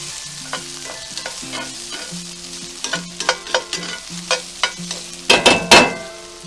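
Green beans and bacon sauté in a pan with a soft sizzle under a series of clattering stirs, spaced irregularly at first and then tightening into a louder burst near the end.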